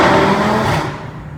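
Audi RS3 Stage 2 with a 2.5 litre five-cylinder engine, loud and close, a dense raspy drone that holds steady and then eases off slightly, with no talking over it.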